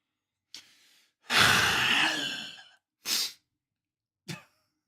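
Heavy, labored breathing in isolated bursts: a short breath, a long loud exhale lasting over a second, then two brief sharp breaths, with silence between them.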